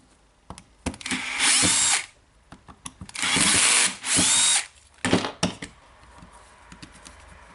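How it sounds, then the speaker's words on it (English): A cordless Makita DDF482 drill driver unscrews screws from its own housing during repair. Three close, loud whirring bursts sound, two long and one short, with quiet handling clicks between them. "just unscrewing the screws."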